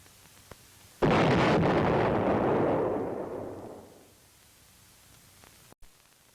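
A demolition explosion in a Vietnam War tunnel bursts suddenly into a loud, broad roar that slowly decays over about three seconds into quiet, with a faint pop afterward.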